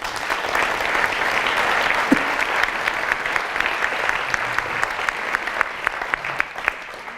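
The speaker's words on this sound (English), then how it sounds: "we should all give you a round of applause for that." An awards event audience applauds, steady clapping from a full room at moderate distance, sustained throughout with scattered sharper claps standing out.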